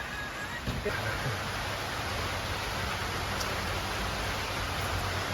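Rain falls steadily outdoors in a continuous broadband hiss that stays even throughout, with people's voices faintly mixed in.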